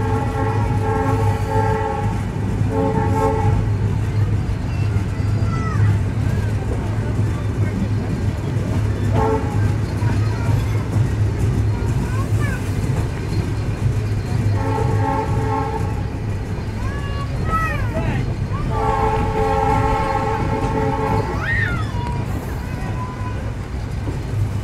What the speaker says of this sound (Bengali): আমরা নির্ধারিত সময় থেকে 6 মিনিট পূর্বেই প্রবেশ করছি আমাদের আজকের ডেস্টিনেশন বাংলাদেশের রাজধানী ঢাকার কমলাপুর রেলওয়ে স্টেশনে